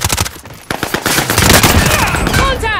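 Rapid automatic gunfire in a video game, shooting at shields: loud, dense bursts of close-range shots rattling in quick succession, with a voice faintly present.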